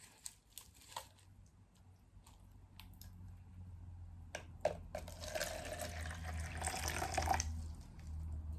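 Water poured into a plant pot holding a Monstera or Syngonium during repotting, a soft trickle and splash running down through the soil that swells into a steady flowing pour, close and alone.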